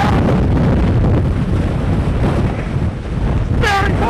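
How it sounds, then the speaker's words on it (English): Roaring wind from Hurricane Wilma buffeting the microphone, loud and continuous with heavy low rumble and gusts, with a brief higher whistling sound near the end. "just when you think that Wilma's done with, she throws more wind at you."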